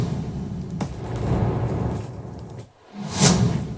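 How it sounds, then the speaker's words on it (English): Impact sound effect for electronic music production, a brief dip into near-silence followed by a loud, bright burst with heavy low-end rumble, standing alone. "So I need an impact which sounds like this."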